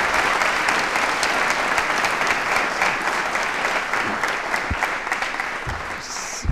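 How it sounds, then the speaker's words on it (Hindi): Sustained audience applause from a crowd at a quiz show on elections, held at an engineering and management institute; dense, steady clapping continues for the whole stretch with no gaps. "तालियां बजाइए अपने लिए"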